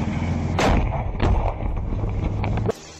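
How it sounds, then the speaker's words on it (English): A handheld anti-tank grenade launcher fires during combat against an armored vehicle, heard as a few heavy booming blasts with sharp onsets and rumbling decay, loud and close, amid battlefield noise. "He steps out fully from cover and fires a handheld anti-tank grenade launcher at the enemy"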